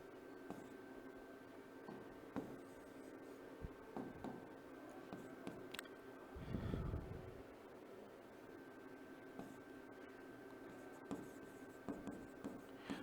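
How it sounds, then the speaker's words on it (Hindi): Notes being written by hand, a pen scratching faintly and steadily across paper in short strokes, with a brief louder rustle partway through and no talking. "तो लिख लेंगे मैग्नीशियम"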